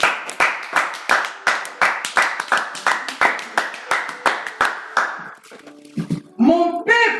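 Church congregation at a Sunday service applauding with steady, rhythmic clapping in loud repeated bursts, then thinning out as scattered voices and a singing or shouting voice rise at the end.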